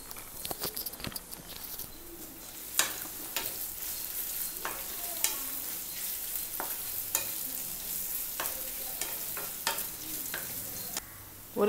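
Finely chopped garlic frying and being stirred in a pan while making potato masala, giving a steady soft sizzle broken by sharp scraping clicks, with faint bird cooing in the background.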